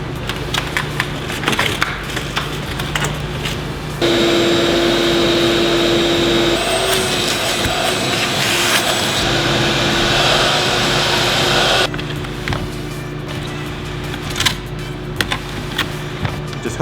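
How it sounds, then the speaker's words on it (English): A shop vacuum roars close by for about eight seconds as it sucks broken glass out of the door rails of an Infiniti G35, starting and stopping abruptly amid quieter workshop clatter. "come get the vacuum. Because all in these rails is all glass."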